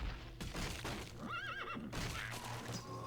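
A horse in a Warcraft 3 custom map neighs once, a bright wavering whinny in the middle over a dense game-sound backdrop, fairly faint overall.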